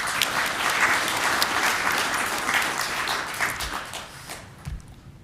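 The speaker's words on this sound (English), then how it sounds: "Just wanted to give another round of applause." A cybersecurity forum audience gives a round of loud, dense applause that holds steady and then tapers off toward the end.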